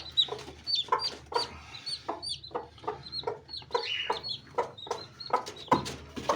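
A hen clucking over and over in an irregular rhythm, close by, beside her hatching eggs, with high thin peeping chirps of newly hatched chicks scattered throughout.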